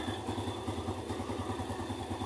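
Motorcycle engine idling steadily during a warm-up run meant to circulate oil through its internal parts, a close, even, throbbing rumble with light mechanical clatter and no voices.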